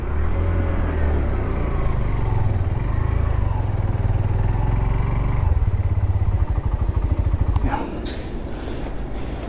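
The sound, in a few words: Hero Glamour X125 motorcycle engine running during ride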